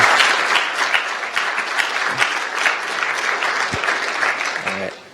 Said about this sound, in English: for Alex, Kathleen, Eric, Melanie, and Shaw, could we get another round of applause?